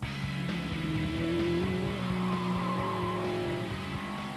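A race-spec Lotus Elise sports car engine drones steadily at close range, its pitch rising and falling as it drives hard, with a faint tire squeal.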